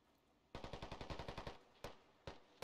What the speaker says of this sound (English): Woods, 330, they're shooting at us.